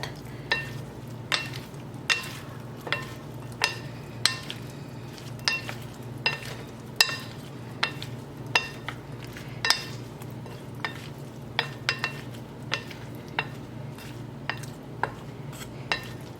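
Ground pepper toasts in a pan while a utensil stirs it, scraping and tapping against the metal in quick, regular clicks over a soft, steady background hum. The clicks stay close and fairly light, and no one speaks.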